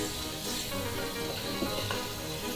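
Beef sizzling in a hot pan, a steady, soft crackling hiss that runs evenly throughout without a break.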